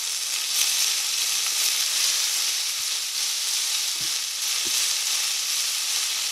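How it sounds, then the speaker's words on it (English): A steak sizzling with butter in a frying pan, a bright continuous hiss and crackle up close, with a couple of faint low knocks, no talking. "we're going to go ahead and put a little bit of butter in our pan here"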